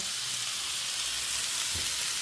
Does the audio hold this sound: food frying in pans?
yes